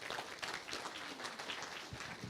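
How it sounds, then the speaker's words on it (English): A crowd at a Walk of Fame honoring ceremony applauds honoree Sean Dietrich, steady dense clapping from a room full of people, fairly faint and distant. "Another round of applause for honoree Sean Dietrich"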